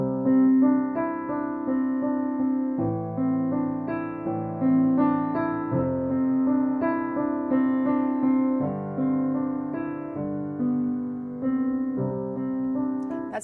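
The opening of a beginner-level piano piece, played alone at a steady moderate loudness, with single melody notes over a simple repeating harmonic fifth in the left hand and no talking.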